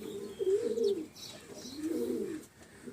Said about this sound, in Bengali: আর উপরে তো ওই পায়রাগুলো আটকানোই থাকে